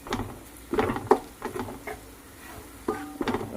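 Kashmiri chilli powder is gently sautéed in a pan, giving soft, intermittent stirring scrapes and light sizzling taps in short bursts, quiet and close, with no talking.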